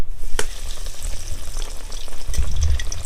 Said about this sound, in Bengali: এবার আমরা স্যান্ডউইচগুলো ভেজে নেব